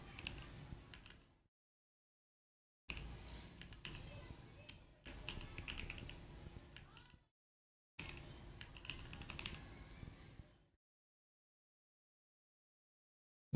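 Keys clatter rapidly on a computer keyboard in several bursts of a few seconds each, separated by silence. The typing is close and fairly soft.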